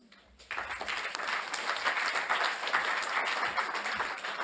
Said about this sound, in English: So give a big round of applause to Nicolas.